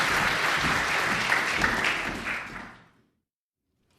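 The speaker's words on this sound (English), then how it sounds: "maybe we can just quickly have a round of applause for Fiona" Audience applause at an art symposium, a warm round of many people clapping for about two and a half seconds before fading quickly into silence.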